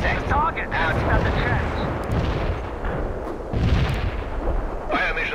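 Mortar artillery fire in the World in Conflict strategy game, a dense, continuous rumble of booming blasts and crackling impacts, loud and sustained throughout, with radio-style voices talking over the battle.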